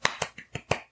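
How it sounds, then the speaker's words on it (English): Five quick, sharp hand claps in a fast, even rhythm, close and dry, with nothing else around them. "And I hand clap."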